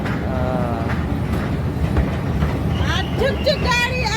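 A train rumbles and clatters steadily nearby, with a loud continuous roar and faint whistling tones near the end.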